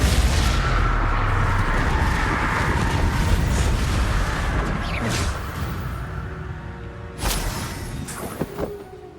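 Spell blasts and explosive impacts from Hogwarts Legacy combat on PS4, a continuous loud booming, crackling rumble with sharper bursts near the end.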